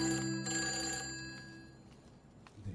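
A telephone bell rings loudly in bursts, then fades into a quieter, noisy background near the end.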